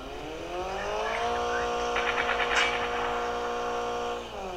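A car engine from a Call of Duty mobile game whirs and revs, rising and holding at a steady, fairly loud pitch before dropping away.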